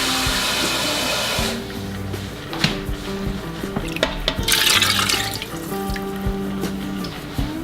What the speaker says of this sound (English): And now I'm also going to add 2 cups of water,